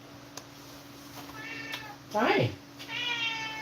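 A pet cat meows close by, a rising and falling call followed by a second, fainter meow, while a person speaks a brief greeting over a steady background hum.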